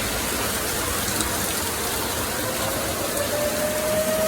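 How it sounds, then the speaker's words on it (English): Steady rain pours down outdoors during a tornado warning, a dense even hiss of drops on surfaces that stays constant throughout with a faint engine hum underneath. "Raining."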